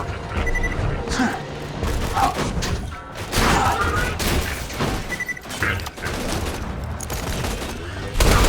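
Explosions and gunfire in Borderlands 2 with the character Zer0 on Normal Mode come as repeated loud blasts and crashing bursts that fill the whole stretch.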